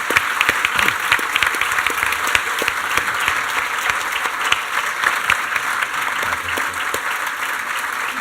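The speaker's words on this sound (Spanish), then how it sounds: "se merecen un gran aplauso" Sustained conference audience applause, a dense, even roar of many hands clapping throughout with a faint high tone running underneath and no pause.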